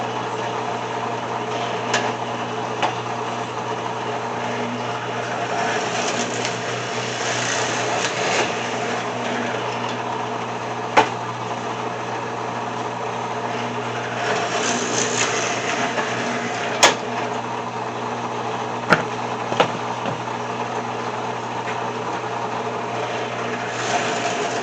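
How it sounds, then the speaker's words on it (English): A drill press turning a 3/8 inch bit bores drain holes through wood for a raised garden bed, giving a steady, continuous motor whine with a few sharp clicks and knocks scattered across it. "I've got a 3/8 inch drill bit set up in my drill press"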